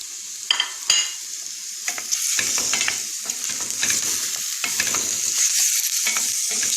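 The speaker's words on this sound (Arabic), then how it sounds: "نضيف معاها الدجاج" Chicken pieces sautéing in a hot pan with onions, a steady close sizzle broken by clacks and scrapes of a spoon stirring through the mix.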